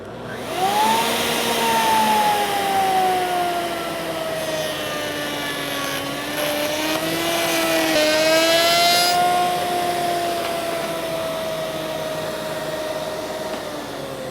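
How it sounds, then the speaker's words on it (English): Router back cutter cutting a cove into a wood workpiece for a bath vanity, a steady loud whine with gliding pitch that stays continuous throughout, swelling slightly midway. "And this time I'm going to bring the back cutter just into contact with the workpiece."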